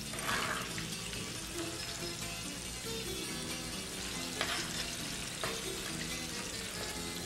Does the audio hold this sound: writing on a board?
no